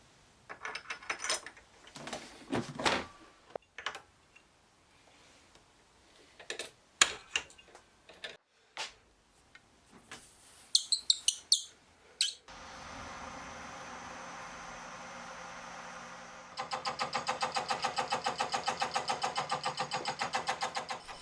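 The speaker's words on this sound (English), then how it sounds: "For the actual cut, I use a 2mm thick slitting saw." A milling machine cuts a slot in a wheel spindle for a Moto Guzzi Le Mans 3 using a 2mm thick slitting saw, the spindle held in a collet block clamped in a machine vise. A steady loud whine with a pulsing buzz follows scattered taps and clanks.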